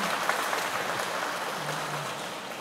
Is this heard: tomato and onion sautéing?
no